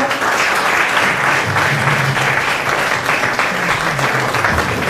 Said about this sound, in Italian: a un applauso